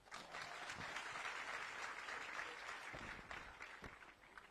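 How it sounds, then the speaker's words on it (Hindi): A crowd applauds at a public program in Narayanpur with ministers present, a continuous even wash of many hands clapping, moderately distant and sustained without a break. "तालियां"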